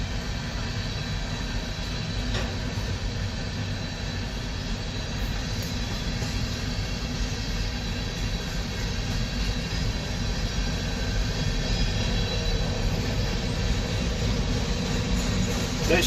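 Empty railroad freight cars, including tank cars, roll steadily past nearby in a continuous broad rumble with faint rattling, unbroken for the whole stretch.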